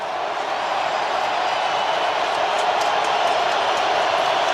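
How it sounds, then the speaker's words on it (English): A football stadium crowd at an NFL Texans versus Chargers game roars steadily and swells slightly louder on a second-and-14 play, a dense continuous wash of cheering with no break. "Crowd gets loud on a 2nd and 14."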